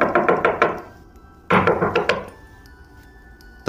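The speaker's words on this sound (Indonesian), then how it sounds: "Aku membalas ketukan itu dengan tempo yang lebih cepat." Knocking on a wall as a horror sound effect: a quick run of five loud close knocks, a pause, then a second run of knocks in the same tempo, ending in quiet.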